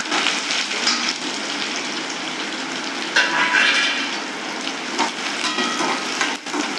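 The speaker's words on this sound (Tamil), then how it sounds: "கடுகு பொரிஞ்சிருச்சு, காஞ்ச மிளகாய் போட்டுக்கலாம். வெங்காயத்தை போட்டுக்கலாம்." Onions and dried chillies sizzling in hot oil with mustard seeds, a steady loud hiss with faint crackles and pops running throughout, no voices.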